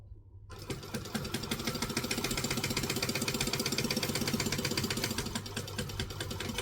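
Sewing machine stitching and back-stitching a lining seam for a Kangaroo sewing pattern, a close, steady rhythmic needle clatter that starts after a short silence and runs evenly to the end.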